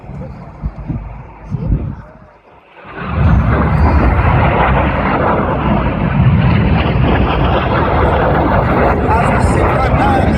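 Red Arrows jet roaring past at an air display, swelling from a quiet gap into a loud, broad, sustained rush of engine noise that holds steady for several seconds, with wind buffeting the microphone.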